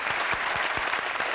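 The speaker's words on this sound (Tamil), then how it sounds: "மிகப்பெரிய கைத்தட்டல் தான்" Large studio audience applauding throughout a Tamil television talk-show debate, a dense steady wash of clapping with no break, loud and close.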